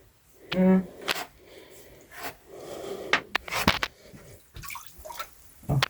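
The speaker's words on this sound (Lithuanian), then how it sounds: "Na, girdi kaip teška." Water splashes and drips in a rock crevice inside a cave in Latvia, with irregular close sloshes and droplets mixed with breathy human sounds.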